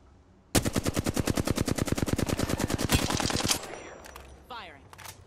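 Rapid automatic gunfire in a video game hammers out in one long, loud burst of evenly spaced shots, then cuts off, leaving quieter game sounds and a few faint effects.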